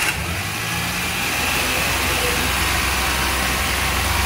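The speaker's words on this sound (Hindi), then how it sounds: "अब करते हैं गाड़ी स्टार्ट" A Maruti Alto 800 engine, freshly fitted with a new timing belt, runs at a steady idle close by, a continuous mechanical hum with faint hiss and no voices.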